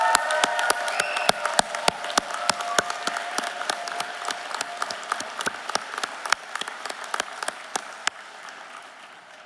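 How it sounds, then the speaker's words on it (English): A university convocation crowd applauds graduates of a health disciplines faculty with sparse, distinct claps that start busier and gradually thin out over several seconds, heard from a moderate distance. "How about another round of applause for all the graduates of the Faculty of Health Disciplines?"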